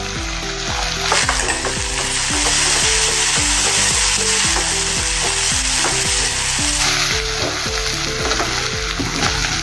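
Finely chopped tomatoes sizzle and fry loudly in a hot pan, with a steady rhythmic scrape of stirring repeating throughout, close and continuous with no talk.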